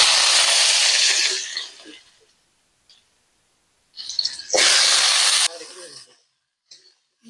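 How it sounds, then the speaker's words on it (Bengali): Potatoes for a baim fish curry drop into hot oil and fry with two loud, close bursts of sizzling hiss that quickly fade, separated by near silence. "সামান্য তেল দিয়ে বাইন মাছের আলুটা ভেজে নেব।"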